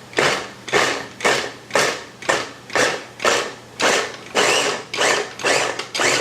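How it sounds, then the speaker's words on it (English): A Ninja Express Chop food chopper pulses through roughly chopped onions with about ten loud, rhythmic mechanical bursts, each a whirring chop separated by brief pauses, close up and with no talking. "I'm going to be using this Ninja Express chop, which is really, really awesome"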